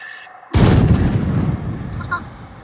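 A single sharp cannon-like blast from a toy M36 Jackson RC tank's sound effect bursts out loudly, then rumbles and decays over a couple of seconds.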